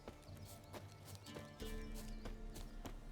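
Hooves of Roach, a horse in The Witcher 3: Wild Hunt, beat out a steady clip-clop over a dense game soundscape with music-like tones, fairly close and moderately loud throughout.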